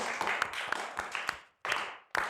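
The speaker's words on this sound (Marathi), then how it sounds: "शाबास, टाळ्या वाजवा सगळ्यांच्यासाठी" Schoolchildren clap together in a school, a dense patter of close hand claps in two short bursts separated by a brief pause.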